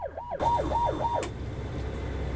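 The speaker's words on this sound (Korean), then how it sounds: "해양경찰관이 사이렌을 울리더니 깃발을 흔들며 인근 어선을 멈춰 세웁니다." A coast guard officer sounds a wailing siren from a coastal rescue boat out on the water, rising and falling several times before cutting off, with a steady engine rumble beneath.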